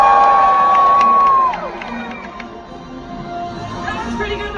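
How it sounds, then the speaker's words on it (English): An arena audience screams and cheers. A shrill whistle-like scream opens over a loud crowd roar, and the crowd then settles into sustained shouting and cheering that fills the space and stays fairly loud. "I need you guys to scream and cheer as loud as you can."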